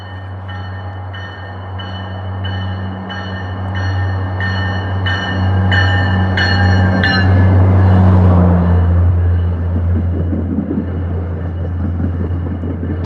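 An express train hauled by an F40 locomotive passes near Forest Hills, its horn sounding in repeated blasts over a loud, steady rumble of engine and wheels that swells into a roaring pass and stays heavy to the end.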